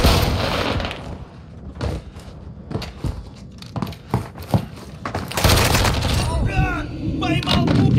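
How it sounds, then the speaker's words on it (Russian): Gunfire and a grenade blast in the video game Warzone 2 come as repeated sharp cracks and bursts spread through the clip, with louder dense impacts toward the end and a voice speaking over the action. "Бросаю гранату!"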